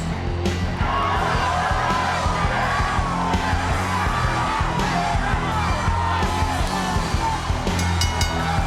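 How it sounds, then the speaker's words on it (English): A packed wrestling arena crowd roars continuously, yelling and whooping at a loud, sustained level with no pauses. "Listen to this crowd."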